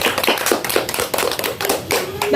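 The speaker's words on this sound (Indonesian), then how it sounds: "tepuk tangan dulu untuk Dina" A small group in an elementary school classroom claps for a student, a quick run of sharp, distinct hand claps in uneven rhythm, close and fairly loud.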